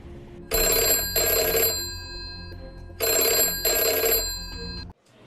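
A telephone bell rings in two double bursts, each pair of loud, bright metallic trills separated by a pause, clear and close with a steady low background hum between rings.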